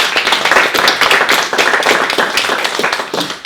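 An audience applauds at the end of a project review presentation on bio-based buildings in Mayenne, a dense, loud patter of many hands clapping close by throughout.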